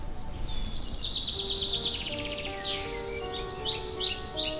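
Birds chirp and trill in the adventure game Castle Of Secrets, a clear rapid warbling phrase followed by a sweeping call and bright scattered tweets, close and prominent over a faint hum.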